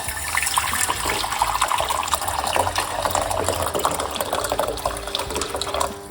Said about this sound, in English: So we're going to put 1 cup of water.